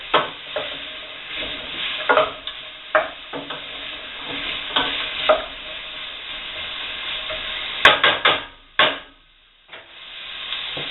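Celery soup with mustard and parsley being stirred in a pot over a sizzling heat: repeated scraping strokes of a spoon with uneven rhythm over a steady fry hiss, ending in a few quick louder scrapes.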